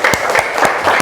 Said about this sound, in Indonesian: Tepuk tangan untuk kelas 4B.